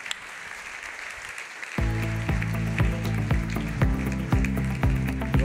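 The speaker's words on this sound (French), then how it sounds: "Les tonnerres d'applaudissements pour cette Dream Team" An audience at a customer-experience gala applauds a round-table panel. Clapping begins after a quieter stretch, with strong low rhythmic music-like tones joining partway through.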